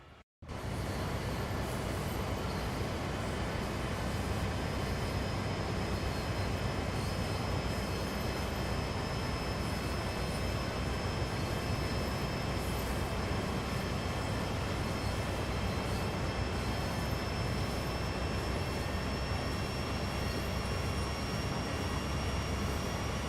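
A long freight train rolls steadily past close by, a broad continuous rumble of railcars with a faint high whine running through it, sustained without pause and with no voices.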